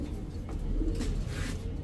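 Lahori pigeons coo softly at a pigeon market on Mirpur Mazar Road, a low murmuring coo repeating close by over a steady background hum, with no talk.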